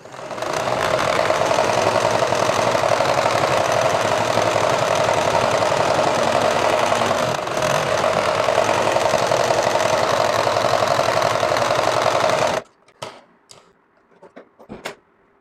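A sewing machine double-stitches thick rubber with a loud, continuous mechanical whir close by for about twelve seconds. It then stops abruptly, leaving a few faint clicks and knocks.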